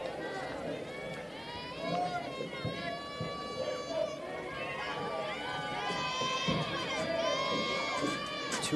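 A home crowd applauds and cheers steadily at a high school state softball quarterfinal, a lively mix of clapping, shouts and youthful voices sustained across the whole stretch.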